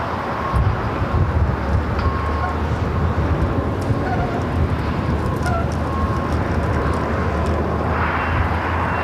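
A Singapore airliner going around over the north side of LAX: a loud, steady jet roar that holds at a constant level throughout, with a low rumble underneath and no clear breaks.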